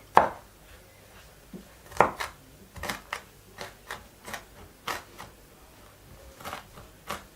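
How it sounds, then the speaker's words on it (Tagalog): Garlic being chopped with a knife on a cutting board, a series of crisp, evenly spaced thuds, close and fairly loud against a quiet background. "Cut ang ating garlic."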